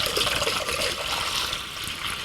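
Liquid pouring steadily through a small funnel with a trickling, splashing sound, close by and continuous for a couple of seconds.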